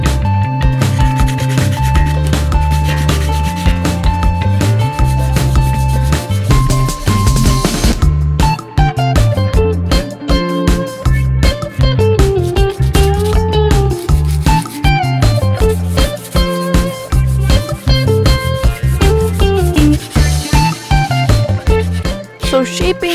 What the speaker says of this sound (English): For cleaning up and shaping, I used a rasp, 50 grit sandpaper, and 120 grit sandpaper.